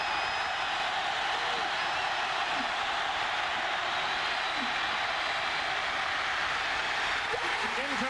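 Stadium crowd at a 1995 Alabama versus Auburn college football game, a steady loud roar of many voices sustained throughout as a fourth-down play unfolds in the closing seconds, with an announcer's voice over it.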